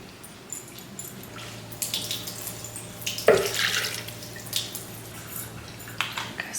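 Water is poured into a blender jar for homemade steak sauce, a close, splashing trickle that swells and fades in uneven bursts over a low background hum.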